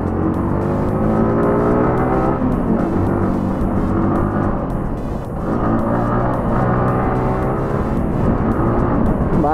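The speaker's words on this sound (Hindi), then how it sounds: "भाई क्या ट्रैफिक है इधर आज।" Continuous engine drone and rumble from a Yamaha R15 motorcycle ridden through busy road traffic, loud and steady, with shifting revs and passing vehicles blending in, wind buffeting throughout.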